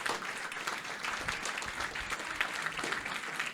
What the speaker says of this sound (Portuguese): Salve palmas para o pastor Benoit e para a família.